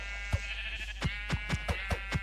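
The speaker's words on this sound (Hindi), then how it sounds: "और भी तो बकरियों की आवाज आ ही रही थी मेरे को" Goats bleating in the Minecraft video game: a string of about seven short, wavering bleats spread across the moment, clear and unaccompanied by talk.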